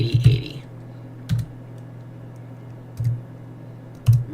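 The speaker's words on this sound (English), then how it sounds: "And then you're going to want to type http://localhost" Computer keyboard keys tapped in a few short bursts while typing a localhost URL into a web browser, close and fairly quiet over a low steady hum.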